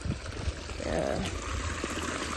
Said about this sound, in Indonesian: Jadi airnya tuh ngerocok kayak gini.